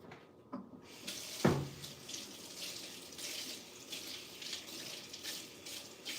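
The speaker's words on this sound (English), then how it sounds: "Let me just kind of rinse up." Hot water runs from a kitchen tap as food is rinsed under it, a steady splashing hiss after a brief thump, continuing close and moderately loud throughout.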